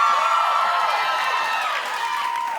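A studio audience at a daytime talk show claps and cheers steadily, a dense continuous wash of applause and whoops that fades slightly at the end.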